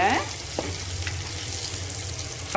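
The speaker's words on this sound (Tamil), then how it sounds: "இப்போ நான் ஒரு பிஞ்ச் பெருங்காயம் போட்டுக்கிறேன் பெருங்காயத்தூள் இப்போ அதையும் சேர்த்து நம்ம வதக்கிக்கலாங்க" Shallots sautéing with asafoetida powder, an even, close sizzle of frying with a couple of soft stirring scrapes, with no talking.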